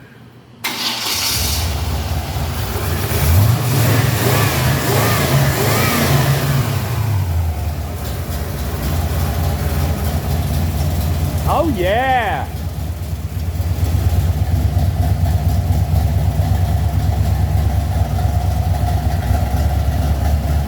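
A car up on a garage lift cranks, catches and revs loudly before settling into a steady idle, with a brief rising whine partway through; a man exclaims over the running engine.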